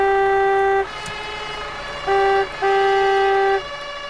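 Loud, deep blasts of a fire truck horn in a firefighting simulator video game: one long honk, then two more in quick succession, with a faint siren tone in the background.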